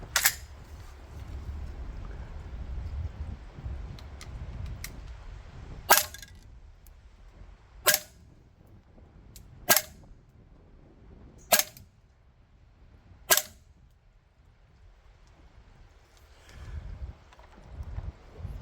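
A GHK HK416A5 airsoft rifle running green gas fires 0.25 g BBs: five sharp, loud single shots spaced about two seconds apart, each a crisp crack standing alone over quiet low background rumble.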